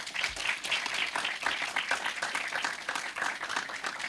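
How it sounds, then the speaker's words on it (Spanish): An audience breaks into steady, sustained applause to welcome two speakers at a film school master class, dense clapping filling the room without pause. "Un aplauso para los dos para recibirlos."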